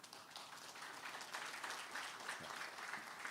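An audience claps at an industry-academia program event, a dense, sustained patter of many hands that sounds fairly distant and faint and holds steady for several seconds.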